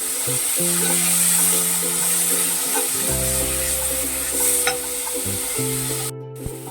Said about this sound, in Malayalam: ടൊമാറ്റോ സോസും കൂടി ഇട്ടിട്ട് നല്ലപോലെ ഒന്ന് ഇളക്കിയെടുക്കാം.